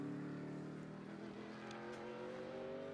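Mercedes-AMG GT3 race car driving flat out on a hill climb course, its engine note a steady high-pitched howl held near and loud throughout, with slight pitch shifts as it powers on.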